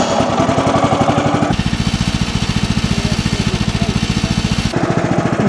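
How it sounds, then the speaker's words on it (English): The gasoline engine of a Woodland Mills sawmill warms up at a steady idle, chugging in a fast, even rhythm close by, with a slight change in pitch partway through. "We'll let the engine warm up here just a second before I"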